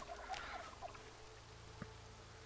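Turkeys on a Project Zomboid farm, penned beside cows, give a few faint, scattered gobbles in the opening second against a low, steady background hum, then fall quiet.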